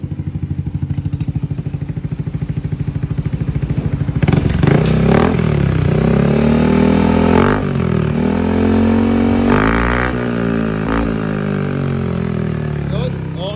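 A motorcycle fitted with a new exhaust pipe and no silencer idles with a rapid, loud putter, then revs hard in several rising and falling bursts, close and raw, with voices talking over it.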